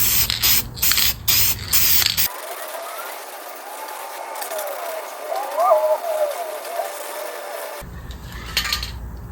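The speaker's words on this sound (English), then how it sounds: "Cheap Walmart spray can." Short hissing bursts from a cheap spray paint can, then a longer continuous stretch of spraying with a faint voice underneath, followed by more quick bursts.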